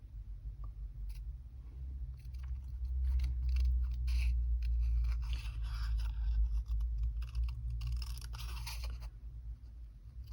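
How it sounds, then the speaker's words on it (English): Stampin' Up snips cutting out paper for a handmade bloom card, a steady run of close, crisp snipping and crunching cuts over a low background hum, with no talking. "They're Stampin' Up snips, and these are excellent for cutting out."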